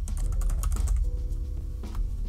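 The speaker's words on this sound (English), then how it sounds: "Must have typed something wrong here." Fast typing on a computer keyboard, close and fairly quiet, a quick irregular run of key clicks with a brief pause before a final few taps.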